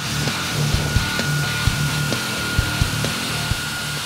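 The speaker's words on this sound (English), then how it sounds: "We take care of everything with an operator on the seat safely on a Ventrac with the Buffalo turbine blower." Buffalo turbine blower mounted on a Ventrac tractor at a golf course, heard as a loud, steady broadband roar of rushing air, close and continuous, with faint irregular ticks and knocks underneath.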